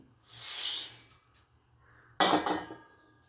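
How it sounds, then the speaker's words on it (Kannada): Puffed rice tipped into a bowl for homemade bhel puri makes two close, dry rattling pours, a longer one first and then a shorter, sharper one with a clinking edge, separated by a quiet pause. "ಈಗ ಪುರಿನ ಹಾಕ್ಕೊತಾ ಇದ್ದೀನಿ"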